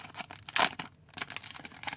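Plastic wrapping on Pokémon trading cards from a Solgaleo GX and Lunala GX legendary starter set is torn open close up, giving a brief crinkling rip with a sharp loud burst midway and lighter crackles around it.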